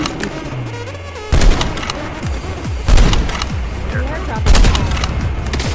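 Bursts of gunfire in Call of Duty Mobile, loud repeated volleys with sharp cracks arriving in three clusters, while a player talks over the shooting.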